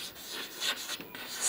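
Pen writing during a chemistry lesson, soft scratchy strokes in short bursts, quiet and close with no talk.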